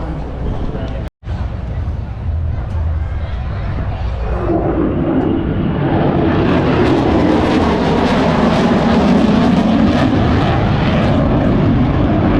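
Warbird aircraft fly over the Sun N Fun airshow in Lakeland, Florida, a propeller engine roar building loud and steady overhead after a brief dropout.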